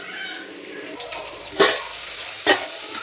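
Vegetable pieces cook in oil with a soft, low sizzle close by, broken by two sharp metallic clatters, such as a lid or utensil striking the pan.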